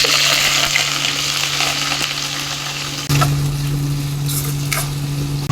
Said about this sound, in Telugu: 3 ఉల్లిపాయలు ఇలాగ సన్నగా పొడుగ్గా కట్ చేసి పెట్టుకొని ఇది కూడా వేసేసుకుందాం.